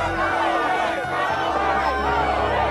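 An activist protest crowd gathered outside keeps up a steady, dense hubbub of overlapping voices and murmuring that holds at an even level throughout, with no single voice standing out.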